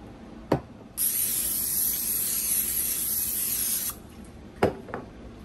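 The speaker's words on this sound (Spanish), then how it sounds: "con un spray de esto yo le voy a poner a la bandeja" A can of cooking oil spray hisses steadily for about three seconds as it coats a baking tray, bracketed by light clicks of the can, close and moderately loud.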